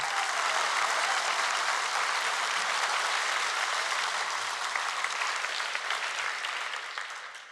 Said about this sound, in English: Let's give all of us a round of applause for an excellent, outstanding morning.